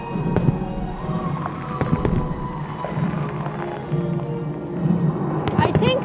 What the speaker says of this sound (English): Underneath the actual fireworks, they had like a beautiful fire show as well.